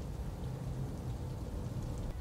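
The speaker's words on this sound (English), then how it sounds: "they're already setting the tone with the rain and the thunder." Rain and thunder effects open a metal album track, a steady dense patter of rainfall with a low rumbling undertone, continuous and fairly soft throughout.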